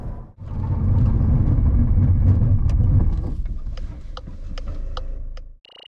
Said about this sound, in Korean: 자, 이번엔 폭스바겐 골프 제동 성능을 볼까요?